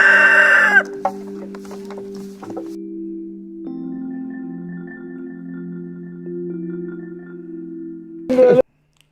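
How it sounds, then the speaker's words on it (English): A rooster crows loudly and close at the start, then a low steady hum carries on through a quiet stretch before a second loud, close crow near the end. "I miss the rooster crow in the morning."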